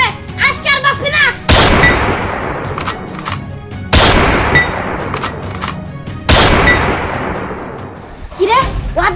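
Several loud, sharp gunshots in an action drama fire at spaced intervals, each with a ringing metallic tail, and brief vocal sounds come between them.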